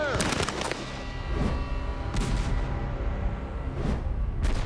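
Three flintlock muskets fired by expert marksmen at redcoat targets 75 yards away, giving sharp crackling reports that stack into a dense, ragged volley with echoing booms across open ground.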